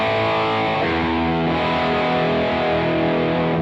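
Electric guitar through a Beetronics Wannabee dual drive pedal, BluesBreaker side driving the Klon side, rings out thick saturated sustained chords with a couple of chord changes, loud and continuous with no talking.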